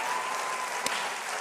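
An audience claps for a moment, a soft, even patter of many hands heard a little way off, with one brief sharper clap partway through.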